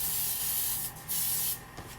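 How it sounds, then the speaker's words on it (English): Cooking spray hisses onto a glass baking pan in two long continuous bursts with a short gap between them, close and fairly loud, followed by a faint brief touch of sound. "So spray all of the sides of the pan."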